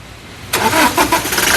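A 2017 Toyota Innova Crysta 2.4 diesel engine cranks and fires on a single self-start: quiet at first, then the engine catches abruptly and runs loud and close with a rough, pulsing idle.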